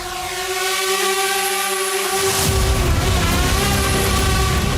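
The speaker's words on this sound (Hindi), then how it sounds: "इन ड्रोन्स की आवाज सुनकर लोगों ने मोबाइल कैमरे से रिकॉर्डिंग शुरू कर दी" Ukrainian attack drones fly over Kazan in the early morning, their engines giving a steady, loud droning buzz that stays constant and grows heavier partway through, with no voices.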